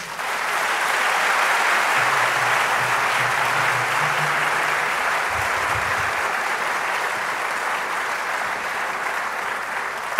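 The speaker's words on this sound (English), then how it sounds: "Shall we please applaud him?" Audience at a professorial inaugural lecture on climate change breaks into sustained applause, a thick, even wash of clapping that swells early and holds steady with a low murmur beneath.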